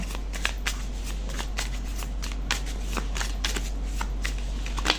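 Tarot cards being shuffled by hand in a continuous, close run of crisp riffling flicks and slaps, with no talking over it.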